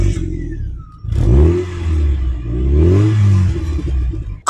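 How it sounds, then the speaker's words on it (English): A 2001 Mazda MX-5 with an aftermarket exhaust revs hard up close, two loud throaty blips rising and falling, then a crisp crackle as it settles. "You've got a Paragi exhaust system on, which sounds like this."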